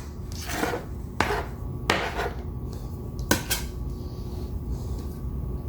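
A knife scrapes chopped green onions across a cutting board in a home kitchen, several sharp scraping strokes spaced about a second apart, close and clear over faint background noise.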